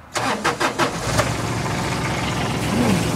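A 2006 Kawasaki Mule 3010 diesel utility vehicle idling after a glow-plug start, a few rough pulses at first that settle into a steady, fairly close low chugging hum with no talk.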